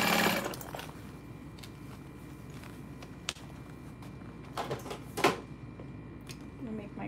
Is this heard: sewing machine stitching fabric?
yes